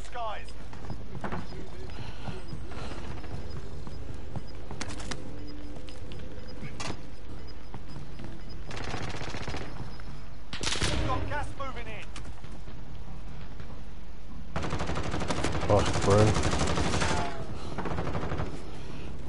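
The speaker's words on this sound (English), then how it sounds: "Gun." Gunfire crackles in the video game Bolo, with short bursts and a longer loud volley near the end, mixed under constant game noise while people talk throughout.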